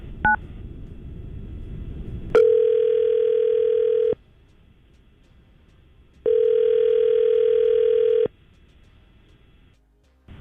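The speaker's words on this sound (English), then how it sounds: "All right, we're going to try to call her right now." A landline phone call is placed during a morning radio show: a brief burst of touch-tone dialing, then two long, steady ringback tones separated by silence, loud and clean with no talk over them.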